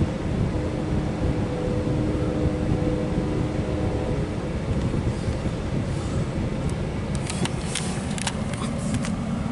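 Amtrak passenger train led by locomotive 85 rolling past on track 2, eastbound and running late; a steady, loud rumble fills the whole stretch, with sharp clanks and squeaks from the cars near the end.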